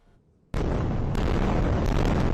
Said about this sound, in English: Unrelenting airstrikes, Israeli ministers ordering a complete siege of the Gaza Strip